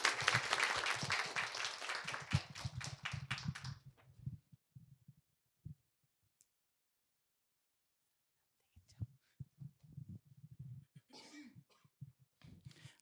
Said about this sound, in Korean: 마지막으로 토론에 참석하신 세 분한테 박수 한번 쳐드릴까요?